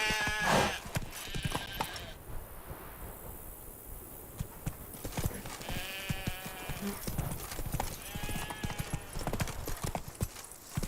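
Roach the horse trotting in The Witcher 3, hooves clip-clopping in a steady rhythm, close and clear over ambient game sound.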